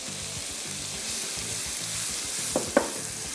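Green onions sizzle and fry in a pan with tomatoes, a steady hiss underneath soft rhythmic scraping of stirring, plus two brief clinks of utensil on the pan near the end.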